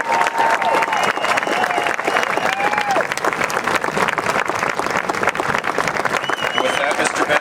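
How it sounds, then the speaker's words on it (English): Sustained applause from an audience at a district high school marching band showcase, dense steady clapping for several seconds with a crowd murmur and a voice speaking over it. "A big round of applause for all of our high school students who performed today"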